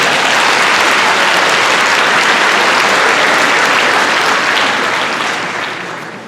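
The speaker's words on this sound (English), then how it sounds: "If we can give them a round of applause, thank you." Loud, sustained applause from a large graduation audience at West Scranton High School, a thick continuous roar of clapping that holds steady for several seconds before easing down at the end.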